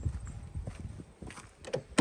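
A 1997 Toyota Aristo V300 locks its doors with quiet mechanical clicks and a sharper clunk at the end, preceded by soft faint rustling and handling noises nearby.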